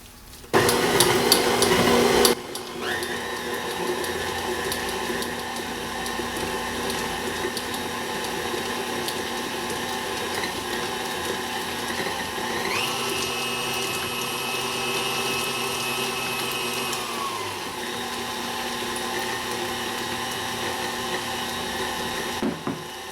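An electric mixer whips avocado butter as melted shea butter is poured in, opening with a brief loud burst before settling into a steady, continuous motor whir with shifting pitch, close and alone.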